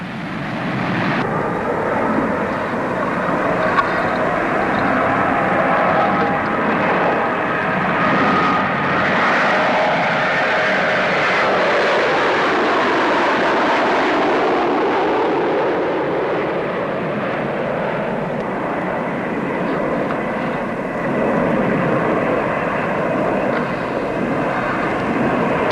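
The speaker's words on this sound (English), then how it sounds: "a pressurized 40-seater, again powered by turboprops." A pressurized 40-seat turboprop airliner flies past at the Farnborough air show in the 1950s, its engines producing a continuous broad roaring drone that holds steady and loud for the whole stretch, swelling slightly as it passes, with no voices.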